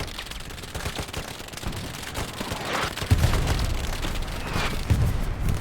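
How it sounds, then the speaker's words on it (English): Dense, rumbling battle noise from a night map in the game Hell Let Loose, with heavy artillery booms on both sides and rapid crackling gunfire, continuous throughout and swelling louder toward the end. "Explosions coming down. Artillery on both sides, hammering down heavily."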